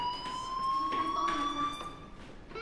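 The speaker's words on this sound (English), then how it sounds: "do you hear that fire alarm?" Fire alarm ringing in the Life Is Strange video game, a sustained high electronic tone with overtones holding steady across the whole short stretch, moderately loud with faint background noise.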